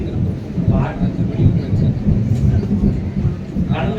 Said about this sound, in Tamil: அங்கே இடி முழங்குது